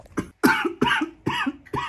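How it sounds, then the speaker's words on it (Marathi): Four or five harsh, close coughs come in a quick, evenly spaced series from someone sick with a bad cold, each a short, loud burst. "खोकला झाला एकदम बेकारवाला."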